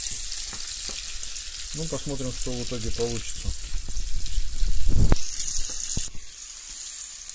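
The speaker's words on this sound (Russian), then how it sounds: "у нас тут лучок жарится" Steady broadband sizzle of onions frying in a pan runs throughout, with someone talking over it midway and a few utensil clinks.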